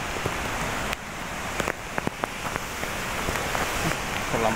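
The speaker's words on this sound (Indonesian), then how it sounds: "Inilah suasana hujan" Steady rain falls at the Curug Cigamea waterfall, a constant wash of hiss with scattered sharper drops tapping nearby, fairly quiet and continuous throughout.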